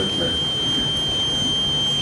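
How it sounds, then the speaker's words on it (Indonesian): An alarm beeps indoors as a steady high tone that runs through the whole moment beneath a low background murmur, moderately loud and continuous rather than sharply pulsed. "Ini alarm apa?"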